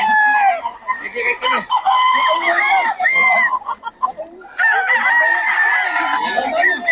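A gamecock rooster crows loudly up close at a Bocaue farm, several long strained cock-a-doodle-doo calls with clucking between them.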